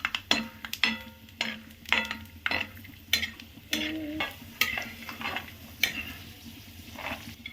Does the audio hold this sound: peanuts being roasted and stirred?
yes